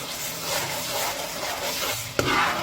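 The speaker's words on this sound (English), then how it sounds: "I'm going to be adding the remaining mixture that we blended earlier on for the fish stuffing. So I'm just going to add that into it and give it a good mix as well." A blended fish stuffing mixture is stirred into a pot of cooking Senegalese jollof thieboudienne, a soft wet churning and scraping with a faint sizzle, close by and steady, ending with a sharp knock.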